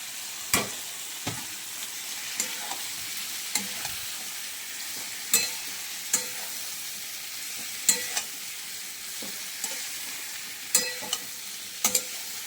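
Boiled green jackfruit frying in a pan of oil with tomato, onion, bay leaf, cumin and cardamom, a continuous low sizzle with regular scraping and tapping of a spatula stirring every second or so, nearby and without speech.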